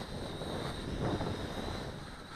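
A UDI U818A-1 quadcopter flies after a hand launch outdoors in wind, its steady motor whine loud and close throughout, mixed with broadband wind noise on the microphone.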